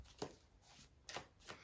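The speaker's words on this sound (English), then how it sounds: "So let's keep shuffling." Tarot cards being shuffled by hand: three soft, brief riffling bursts, quiet and close, with a faint steady hiss between them and no voices.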